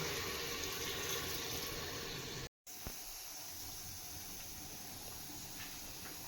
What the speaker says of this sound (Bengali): এবার পরিমাণ মতো পানি দিয়ে দেব।